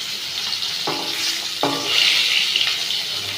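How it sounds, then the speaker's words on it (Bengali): Fish fry in hot oil in a wok, giving a steady close sizzle with a couple of sharp clinks from a utensil against the pan. "সেই তেলেতেই মাছগুলো দিয়ে ভালো করে ভেজে নেব।"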